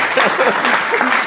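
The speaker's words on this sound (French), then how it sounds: "Ah, applaudissez pour elle." Brief burst of audience applause in a room during a French-language religious gathering, dense and steady, with voices talking over it.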